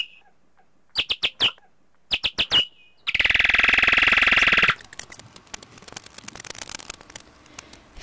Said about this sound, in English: males expressively flap their wings and emit territorial buzzes to announce mating areas